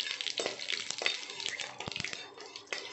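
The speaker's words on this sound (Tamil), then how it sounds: "கடுகு நல்லா பொரிஞ்சு வரட்டும்." Mustard seeds, urad dal and curry leaves spluttering in hot oil for a tomato gravy tempering, with dense crackling pops and sizzle that hold steady at close range alongside light stirring.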